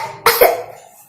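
One person gives two quick harsh coughs close to the listener, and the second, shorter burst fades into room echo.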